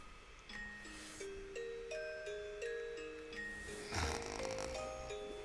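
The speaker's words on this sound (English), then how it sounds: "Rena snored. It sounded cute." Rena snores softly in a visual novel game, a few breathy rasps rising under gentle melodic background music with chiming notes, no talking.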